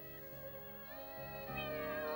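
A cartoon cat gives a long, drawn-out, whiny meow that rises and wavers, heard alone and fairly close.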